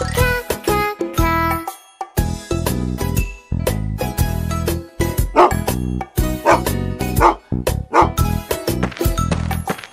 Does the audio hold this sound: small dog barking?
yes